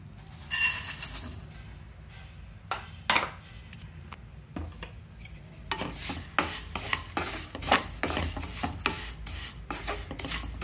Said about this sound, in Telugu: ఈ నెయ్యి కాగిన తర్వాత సేమియా వేయించేసుకోవాలండి